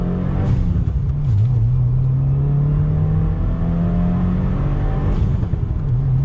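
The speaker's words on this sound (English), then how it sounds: "you're getting some nice sound from that catback exhaust" A 2016 Subaru WRX Limited with a catback exhaust pulls away under throttle, its engine droning loud and steady from inside the cabin, pitch dipping briefly at a shift before climbing again.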